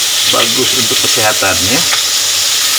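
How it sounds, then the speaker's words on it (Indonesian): Garlic and shallots sauté in a pan for a pork dish with kecap and andaliman, giving a continuous bright sizzle under a voice talking over it. "Ini bawang putihnya lagi kita tumis lagi ya"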